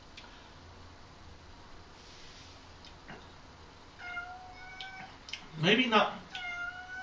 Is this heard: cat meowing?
yes